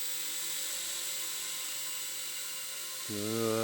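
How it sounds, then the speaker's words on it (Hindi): A flying drone whirs steadily in the background, then a louder, closer tonal buzz rises sharply near the end as it approaches, with no talk. "आया कहाँ से ड्रोन?"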